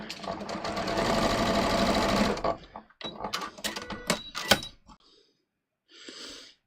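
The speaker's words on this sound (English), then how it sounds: "I'm just going to stitch this one down straight." Sewing machine stitches a straight seam through strip-pieced fabric in one continuous loud burst for about two seconds, followed by quieter clicks and handling noises with a brief soft whir near the end.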